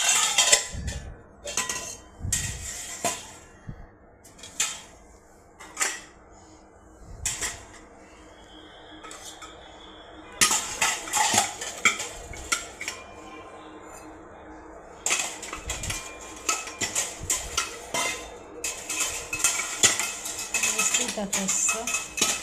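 Small bowls are set out and arranged on a kitchen counter with repeated clinks and clatters of dishes and cutlery, in irregular bursts separated by pauses, with someone talking at times.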